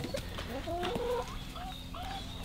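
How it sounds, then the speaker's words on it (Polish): Chickens and roosters cluck on a small farm, several close overlapping clucks and short calls over low background murmur. "Koguty. Koguty."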